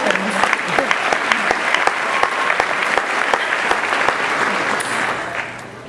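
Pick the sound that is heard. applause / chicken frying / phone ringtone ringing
applause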